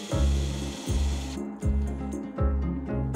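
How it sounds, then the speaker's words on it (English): A drill boring a brass pin out of a piece of wooden furniture, a close motor whine in three or four bursts with short pauses as the bit bites and releases. "I am miraculously able to drill the brass right out."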